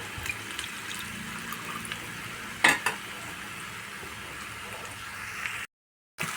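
Water splashes into masala frying in oil in a pan, a steady close sizzle with a brief louder pour burst midway before the sound cuts off.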